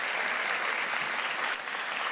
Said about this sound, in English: let's give Doug a round of applause for that beautiful song